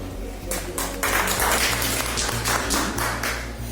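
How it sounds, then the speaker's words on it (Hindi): Audience clapping in an indoor meeting welcomes MLA Honey Singh, a burst of fairly close hand claps building after a second and continuing steadily under low background hum. "अगर आप सब सहमत हो तालियों स्वागत करते हैं"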